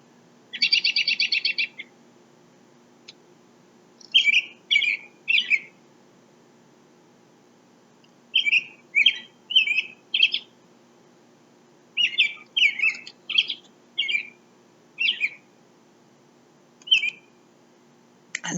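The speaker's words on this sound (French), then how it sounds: "tu vas savoir que c'est le merle" A blackbird sings at a maple sugar bush in short, varied bursts of clear whistled and chirping phrases separated by pauses. It is fairly close against a quiet, still background.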